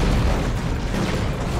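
Heavy booming weapon fire from a Venom Cannon in the strategy game Dawn of War 2: Retribution, a dense, continuous low rumble of blasts with no clear gaps, loud and close throughout.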